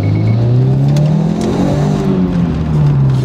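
Exhaust of a Subaru WRX with one of its silencers removed, a loud, steady low rumble holding close and continuous with slight rises in revs and no talk.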